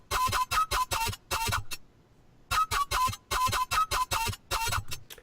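Heavy electronic synth bass patch made in Serum playing a remix melody, punchy loud stabs in choppy rhythmic bursts with a short gap midway, solo without talk.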